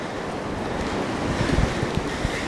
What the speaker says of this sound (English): they're sort of being eroded away from all these waves just crashing in